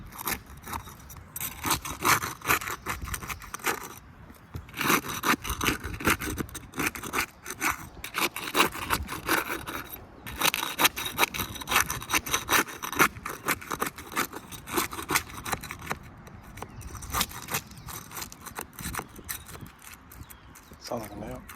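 Roof shingles being pried and unsealed with a tool, giving repeated rough scraping and rasping strokes in irregular bursts, close up, with people talking intermittently over the work.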